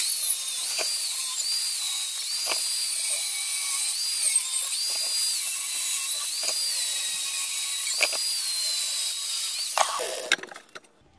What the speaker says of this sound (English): First thing I'm going to do is cut off this.